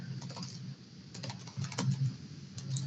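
Computer keyboard typing while filling in a form, quick bursts of light clicking keystrokes with short pauses, close and fairly quiet, no voices.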